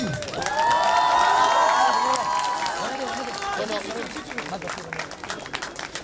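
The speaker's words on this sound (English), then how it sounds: "Ladies and gentlemen, can we have a big round of applause for Tulasi Das?" A crowd applauds and cheers for a performer at a live semi-pro battle event, loud and close at first with shouts rising over the clapping, then slowly fading.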